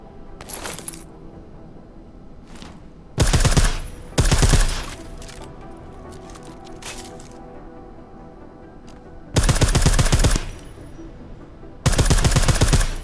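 Suppressed weapons fired in Deus Ex: Mankind Divided, four dense bursts of rapid, clattering shots about a second each, separated by quieter stretches of ambient game sound.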